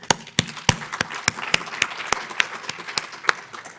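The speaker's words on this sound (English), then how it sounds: "I'd just like to show them a round of applause of appreciation" Sparse clapping from a small conference audience, a dozen or so distinct sharp claps spaced irregularly over a few seconds, close and fairly loud with a light patter of other hands underneath.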